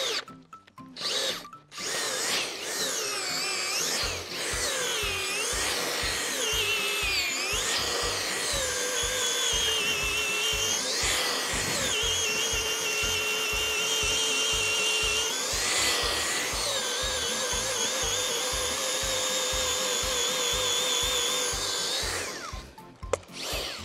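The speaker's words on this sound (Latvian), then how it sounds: "Ar šo urbi iespējams urbt arī uz otru pusi." A motorized earth auger bores holes in the ground for fence posts, running as a steady, loud mechanical drone throughout, with grinding variations as the bit churns through soil.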